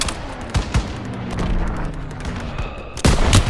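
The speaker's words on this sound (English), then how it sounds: "Firing." Bursts of rifle and machine-gun fire in the World War II shooter Call of Duty WW2, scattered sharp shots building to a loud volley near the end, with faint battle noise underneath.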